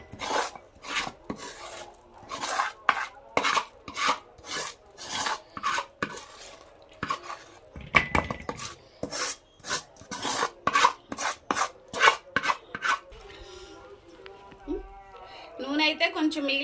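Hot Mysore pak mixture scraped from a pan into a greased bowl, a series of loud rasping strokes in quick succession, close up, with a voice talking at times.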